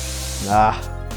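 Air hisses out of a mountain bike tire after it was reinflated with a compressor, a brief broadband spray-like rush that swells near the middle and fades, over a steady background hum.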